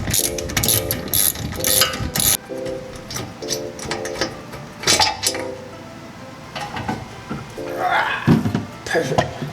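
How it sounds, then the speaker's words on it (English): A breaker bar works loose tight 17 mm caliper bolts on a Genesis Coupe, with sharp ratcheting clicks and metallic clinks in short close bursts. "I recommend using a breaker bar to get them off because they are pretty tight"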